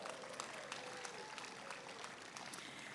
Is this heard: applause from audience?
yes